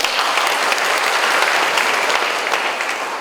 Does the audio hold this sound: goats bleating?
no